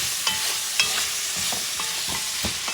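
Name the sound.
stirring elk stew with carrot and pumpkin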